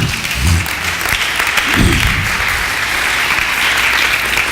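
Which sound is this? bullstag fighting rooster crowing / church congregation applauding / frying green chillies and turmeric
church congregation applauding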